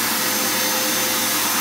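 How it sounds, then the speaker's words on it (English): A vacuum cleaner hooked up to drive a single-cylinder Lego vacuum engine roars steadily and loudly throughout, a constant broadband whoosh with a low hum and no talking. "so hook it up to the vacuum cleaner."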